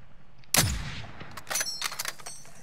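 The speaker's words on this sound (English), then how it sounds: "He is getting shot up by someone else." Gunfire in the video game Call of Duty Warzone: one sharp, loud shot followed by a spatter of quieter distant bursts and cracks.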